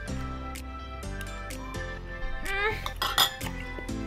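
Metal cutlery scraping and clinking against a plate as tough octopus is sawed at in an Itaewon restaurant, with sustained background music and occasional louder knocks.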